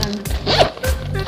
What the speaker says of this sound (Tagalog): Tapos, may zipper pa siya.